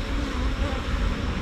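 Honey bees in a busy colony super at an open beehive, a dense continuous buzz close by, steady and loud for the whole moment with no voices.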